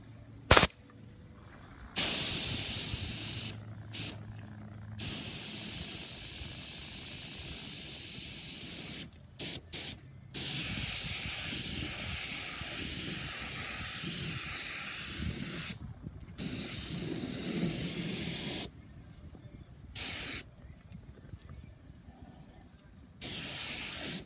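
Spray gun laying a second coat of charcoal gray paint over a spot rust repair, steady loud hissing bursts broken by short pauses between passes.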